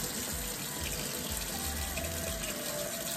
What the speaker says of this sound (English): So we want to get some cold water first.